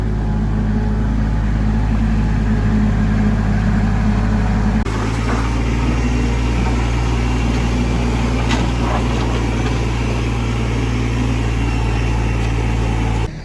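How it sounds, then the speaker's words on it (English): A tractor engine clearing dirt at an indoor house construction project, running steadily and loud throughout with a low continuous drone that shifts to a heavier load about halfway through. "I'm letting the tractor do the work because it never gets to do any of the work when we're around."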